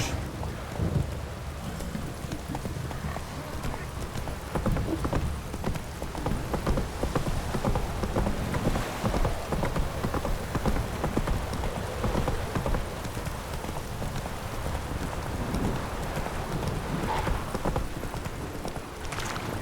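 Roach the horse's hooves clip-clop steadily in The Witcher 3, a continuous rhythmic trot heard alongside rain and distant thunder, moderately close with no talk.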